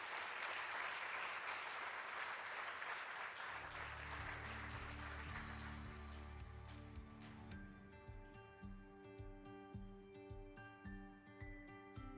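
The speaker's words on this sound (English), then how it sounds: "Please give them a round of applause." Audience applause at an awards ceremony, a soft wash of clapping for a few seconds that gives way to quiet, tonal music.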